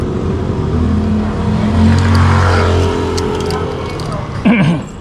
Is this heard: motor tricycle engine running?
yes